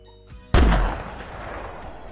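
A single loud rifle shot booms in the hunting video game The Hunter Classic, a sharp blast followed by a long rolling echo that fades slowly.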